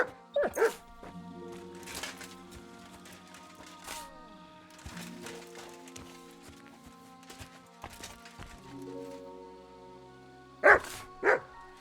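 Mutt, the dog companion in the video game Kingdom Come: Deliverance II, gives a few short barks that stand out near the start and again near the end, over layered game music and ambient sound.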